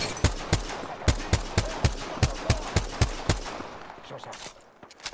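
Gunfire in the video game Apex Legends: a rapid, evenly spaced burst of about a dozen loud shots, then a few scattered fainter reports as the shooting tails off.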